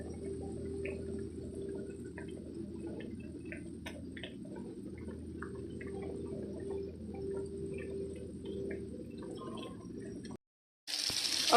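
Stir fry vegetables rinsed under running water, a steady, close rush of water and dripping that carries on for about ten seconds, then cuts off briefly before a louder burst of splashing at the end.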